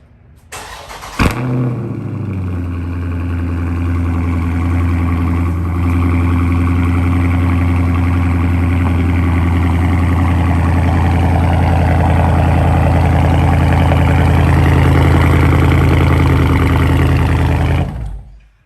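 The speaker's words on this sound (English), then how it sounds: "let me get y'all folks a cold start" A car engine cranks and catches on a cold start, then settles into a loud, steady high idle close by that runs for about seventeen seconds before cutting off abruptly.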